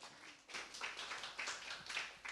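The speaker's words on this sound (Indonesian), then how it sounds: "Tepuk tangan bagi Tuhan dulu ya" A church congregation at a worship service claps for God, a fairly faint run of rhythmic handclaps in quick bursts, several groups of claps rising and falling.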